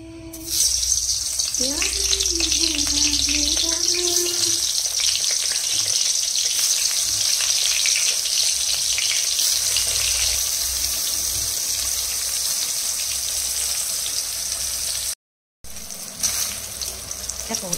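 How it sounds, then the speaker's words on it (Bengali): Steady, loud sizzling of eggplant frying in oil fills the whole stretch, with a brief voice near the start and a short cut of silence near the end. "এই দুটোকে আজকে ভেজে ফেলবো সকালবেলা"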